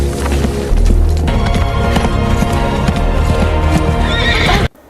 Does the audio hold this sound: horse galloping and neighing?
yes